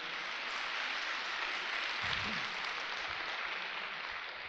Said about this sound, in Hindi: हेलो, 2-4 लोग ताली बजा रहे हैं यार।